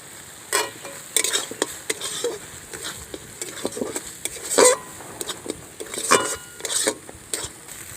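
Spice paste frying in oil for prawn malai curry, with soft sizzling under repeated sharp scrapes and clinks of a spoon against the pan, stirred in uneven bursts up close.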